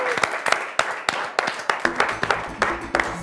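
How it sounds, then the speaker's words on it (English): Children in a studio giving a round of applause for a spelling champion, a series of distinct claps at a fairly even rhythm, moderately close, with a short tonal sound entering partway through. "show everyone who's watching at home a round of applause"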